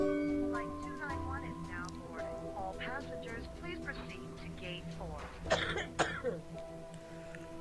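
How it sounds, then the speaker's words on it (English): Dry coughing from the Plague Inc Evolved game mixes with its tonal music, with a few sharper coughs bunched near the end, all fairly quiet and close. "is this coughing like the game statics or just me?"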